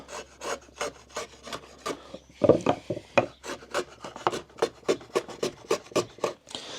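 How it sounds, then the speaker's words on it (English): A woodworking chisel being sharpened on a stone, heard as a close, steady series of rhythmic back-and-forth rasping strokes that pause briefly partway through, then resume evenly. "The chisel should be a bit sharper now then."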